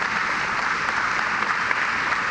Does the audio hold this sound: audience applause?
yes